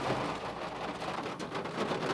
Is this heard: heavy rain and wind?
yes